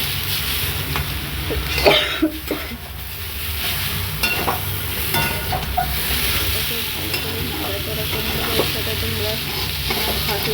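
A pan of food fries with a steady close sizzle while a spoon stirs and scrapes at intervals, and a person coughs and clears their throat early on.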